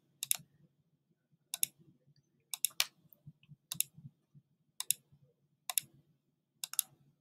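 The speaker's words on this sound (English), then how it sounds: "that's because I'm clicking my mouse, or you can click your mouse pad on your Chromebook" Quiet, crisp computer mouse clicks come in pairs and small clusters, about eight separate bursts spaced roughly a second apart over a soft low background, close to the microphone with no talking.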